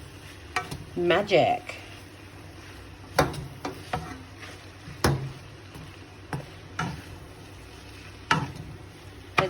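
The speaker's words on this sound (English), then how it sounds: "Let's give it a good stir." Spicy Indian instant noodles sizzle in a pan while being stirred, with a soft constant frying hiss punctuated by scattered clinks and scrapes of the utensil against the pan; a voice says a single word.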